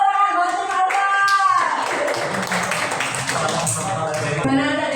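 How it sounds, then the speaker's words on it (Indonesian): Classroom clapping during a physics lesson, a burst of hand claps rising under and after a teacher's voice, with students chattering over it. "Tepuk tangan buat Sumarta."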